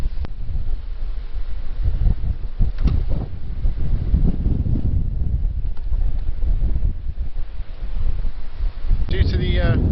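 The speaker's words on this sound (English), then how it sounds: "It's far too windy." Strong wind roars across coastal cliffs at the Green Bridge and Elegug Stacks in Pembrokeshire, buffeting the microphone with a steady, loud low rumble and gusty surges throughout.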